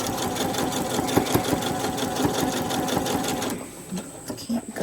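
Sewing machine stitching a quilt block, a fast steady mechanical chatter running close and loud before stopping near the end, with brief talk.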